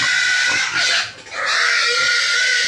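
Fattener pigs grunting and squealing continuously up close on a farm, a dense, noisy chorus of snorts with no talking.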